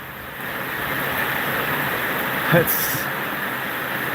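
Heavy rain pours steadily across a flooding yard, a dense continuous hiss throughout, with a brief spoken word near the middle.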